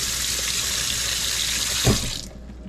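Water runs steadily from a faucet into a sink for rinsing, a loud close hiss that cuts off abruptly near the end, leaving quiet.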